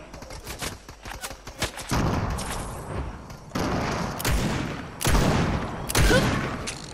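Rapid gunfire in a Fortnite duos match crackles in dense bursts, several loud volleys of shots and booms stacked close together, with no talk over them.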